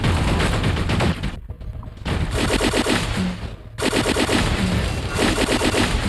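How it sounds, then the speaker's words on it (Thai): Heavy automatic gunfire from a new weapon in the mech combat game War Robots roars loudly and almost continuously, broken by two short pauses between long sustained bursts. "มันไม่ได้แรงเลยนะปืนใหม่เนี่ย ยิงไม่ค่อยจะเข้าเลยอะ"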